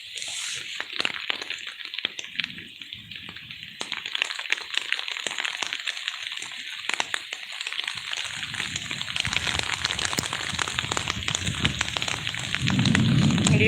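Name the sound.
heavy rain falling near a forest home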